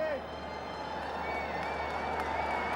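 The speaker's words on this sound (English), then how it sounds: "And that's the Chennai crowd there for you." Crowd noise from a packed cricket stadium in Chennai, with spectators cheering for the local Chennai Rhinos side. It comes as a steady, broad roar that holds at an even level throughout, with faint talk over it.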